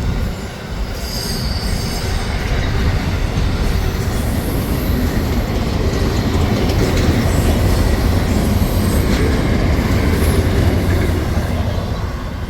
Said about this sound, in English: there's a short train from